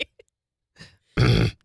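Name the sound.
throat clearing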